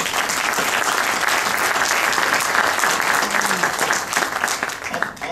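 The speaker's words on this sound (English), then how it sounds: "I'd like to give the fellows on the panel a round of applause for this." Audience applause for a conference panel on hydrogen infrastructure and fuel cells, a dense, sustained round of clapping from a crowd that thins slightly at the end.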